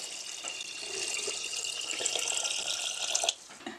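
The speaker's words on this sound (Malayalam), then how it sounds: "നമുക്കിതിലേക്ക് ഒരു 2 ലിറ്റർ വെള്ളം ഒഴിച്ചു കൊടുക്കാം." Boiled and cooled water, about two litres, pours steadily into a pineapple and sugar mixture for homemade wine, giving a continuous close hissing splash that stops abruptly near the end.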